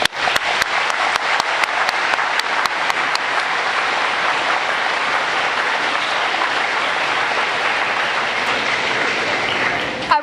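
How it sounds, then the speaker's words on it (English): A crowd at a Veterans Day school assembly in a high school claps. A few sharp individual claps at the start quickly build into a loud, sustained wall of applause that lasts to the end. "I would also like to give a round of applause for our National Honor Society members"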